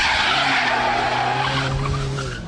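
A front-wheel-drive car drifts with its tyres skidding and squealing continuously, loud and close, the engine droning underneath throughout with no talk.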